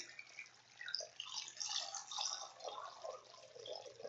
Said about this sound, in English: I'm going to carefully pour a little bit of water right in there